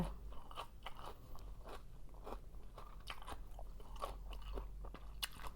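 Crisp, close crunching bites and chewing of a sweet, crunchy Thai food, a steady series of sharp crunches repeating irregularly over several seconds with no talk.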